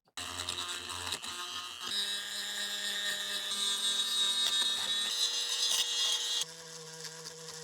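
Steady abrasive scrubbing on the copper traces of an Acorn Archimedes circuit board, rubbing off black corrosion; a continuous, fairly loud grinding hiss that holds for several seconds, shifts slightly in pitch midway and eases near the end, with no talking.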